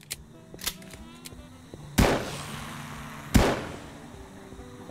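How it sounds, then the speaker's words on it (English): Two sharp, loud gunshots ring out in the zombie-survival shooter Clownfield 2042, each hitting hard with a decaying tail, separated by about a second and a half over quiet game ambience with small clicks. "Gun sounds pretty good though. Especially the reload click."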